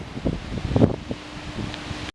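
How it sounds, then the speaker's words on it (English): Gusts of wind buffet the microphone in uneven low rumbles and bursts, with a faint steady hum underneath, cutting off abruptly, on an exposed rise along the English coast path between Sunderland and South Bents. "At the top of that slight rise it gets quite windy."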